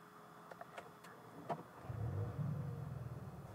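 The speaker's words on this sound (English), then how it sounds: "If we turn the car on for the first time" A CUPRA Leon starts up: a few soft clicks and chimes, then the engine turns over and settles into a low, steady idle from inside the cabin.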